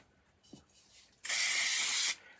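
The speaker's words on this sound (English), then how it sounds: "add a little bit of spray glue." Spray glue hisses from an aerosol can in one steady burst just under a second long, close and fairly loud, after a few faint handling sounds.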